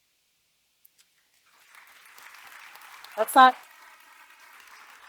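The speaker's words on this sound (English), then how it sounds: "I appreciate the applause there" Brief burst of applause and cheering at a nursing pinning ceremony, a spike that fades into a low hubbub, following a speaker's voice.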